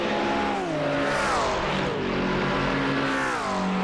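A race car engine in the iRacing sim at Road Atlanta drones loudly and steadily down the long back straight. Its pitch climbs, drops briefly and rises again, with no talk over it.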